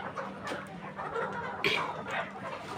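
Chickens cluck in a homestead yard around feeding time, with scattered short calls at moderate distance over steady background noise, no speech.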